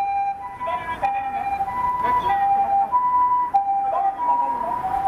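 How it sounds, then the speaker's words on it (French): An ambulance siren wails with a steady rising and falling electronic tone, fairly loud and sustained, mixed with a low wash of street and traffic noise. "Chaque fois qu'on voit passer une ambulance,"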